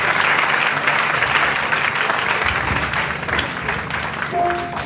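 A church congregation at a Francophone evangelical service bursts into loud, sustained applause, a dense wash of many clapping hands heard up close and continuing without pause throughout.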